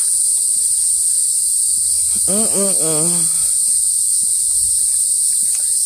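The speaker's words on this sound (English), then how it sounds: "Listen to those bugs, y'all." Loud, steady insect chirping from bugs fills an outdoor scene at a historic freedom park, a continuous high buzzing drone throughout, with a brief animal-like or vocal warble passing in the middle.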